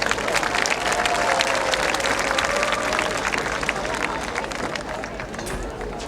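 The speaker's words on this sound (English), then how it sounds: "please join me in giving her another round of applause." Audience at a 2017 spring graduation ceremony giving sustained, dense applause, a steady wash of many hands clapping with crowd murmur underneath throughout.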